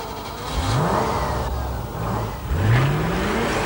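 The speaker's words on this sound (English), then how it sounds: "this is the only one here to have a V8 engine" A luxury car's V8 engine revs and accelerates in two rising surges, fairly close, with a mid-pitched growl climbing in pitch each time.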